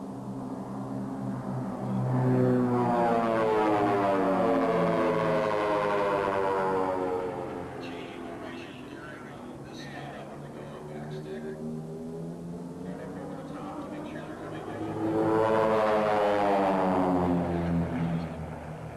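Aerobatic propeller airplanes fly formation maneuvers above a small airfield, their engines swelling as they pass near, fading away, then returning, with a voice talking over the drone.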